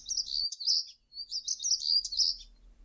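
Recorded bird song from an educational bird-identification app: two bursts of high, rapid chirping and twittering, clear and close, with no talk over it.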